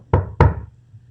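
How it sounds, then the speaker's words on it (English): Two sharp, hollow knocks on a door land about a quarter second apart, close and loud, each ringing briefly before fading into quiet. "and they knock on the door"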